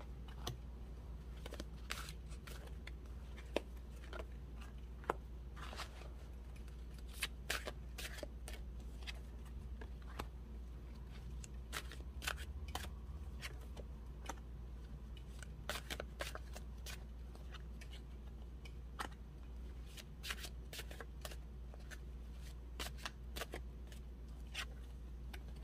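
Tarot cards are shuffled and drawn for a reading, producing soft, steady riffling and crisp card snaps throughout, quiet and close over a low background hum.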